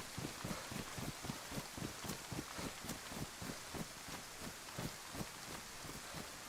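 Steady rain pours down in the survival video game DayZ, a constant wash of drops with a faint regular patter throughout and no talking.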